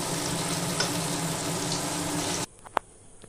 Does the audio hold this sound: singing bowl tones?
no